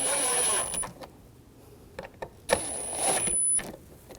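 Small screws being driven and tightened into an HID ballast control module on a 2006-2009 Audi S4, heard as a few quiet clicking, ratcheting bursts separated by pauses, close by and fairly faint.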